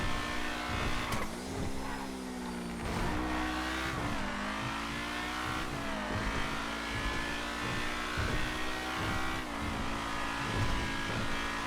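A Rapid GT sports car engine in the video game GTA, revving loudly and accelerating with shifting pitch throughout, with brief tire squeals and no talk.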